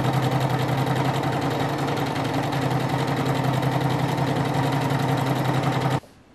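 A sewing machine runs a scalloped embroidery stitch in one steady, continuous stretch with a tight mechanical hum and rapid needle chatter, then stops abruptly near the end.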